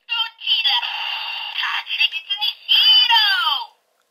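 A DX Good Striker toy speaker plays a tinny, electronic random voice clip with bright synthesized effects and a rising sweep at the end, close and loud, about three seconds long.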